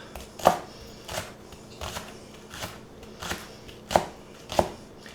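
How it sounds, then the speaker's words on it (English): Green onions are sliced into circles with a knife on a cutting board, giving soft, crisp chops at an uneven pace about a second apart. The sound is quiet and close, with no voices. "We're just going to slice these into circles."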